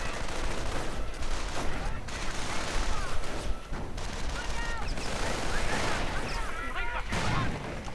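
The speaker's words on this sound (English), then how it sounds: "Grenadiers pulling out due to heavy grenade and sniper fire." Dense battlefield noise from a World War II-style war strategy video game with German tanks: heavy gunfire, grenade blasts and sniper shots crackle continuously, loud and busy throughout with no pause.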